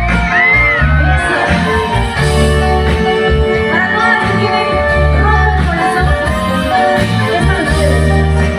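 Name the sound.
concert crowd shouting loudly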